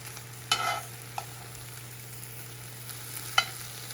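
Greens with garlic cook in a pan over medium heat, a soft steady sizzle broken by a few sharp stirring clinks and scrapes from tongs, close by and with no voices.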